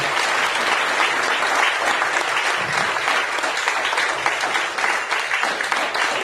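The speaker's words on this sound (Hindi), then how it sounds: "एक बार तालियां बजाएंगे तो जल्दी हो जाएगा" Audience applause at a product demonstration in Hisar, a dense, steady wash of many hands clapping together that holds at an even level throughout.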